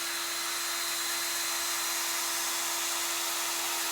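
Sanding a wooden chair dowel spindle with 400 grit sandpaper on a spinning power tool: a steady, continuous whirring hum with an even hiss throughout, close and with no talk.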